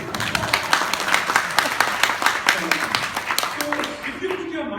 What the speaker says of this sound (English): So a round of applause for me for that